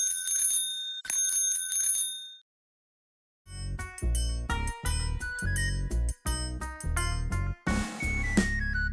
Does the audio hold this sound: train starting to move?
no